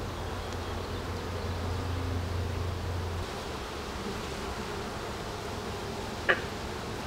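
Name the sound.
honey bees buzzing during beehive inspection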